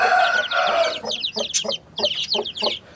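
An Aseel hen clucking repeatedly in a steady rhythm, with chicks peeping around her, close and fairly loud in a dark enclosed space.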